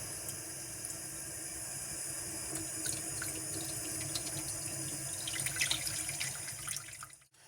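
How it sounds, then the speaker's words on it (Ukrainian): Tomato seeds are washed under running tap water, a steady close hiss of flowing water with light splashes and trickles building toward the end before the flow cuts off, no talking. "Миємо насіння до чистої води, щоб вода була чиста."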